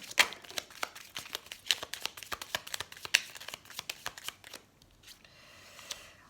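Tarot cards shuffled and drawn in a quiet room, a steady run of crisp riffling flicks and snaps with several sharper card slaps, easing into a softer rustle near the end.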